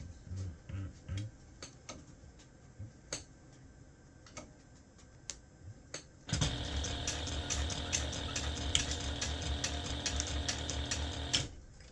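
Sewing machine stitching a gift bag: scattered ticks and clicks give way to a steady, fast mechanical whir that runs for several seconds before stopping abruptly.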